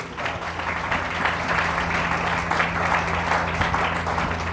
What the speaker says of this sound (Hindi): मैं चाहता हूँ गुरुजी के लिए एक जोरदार ताली दे दो।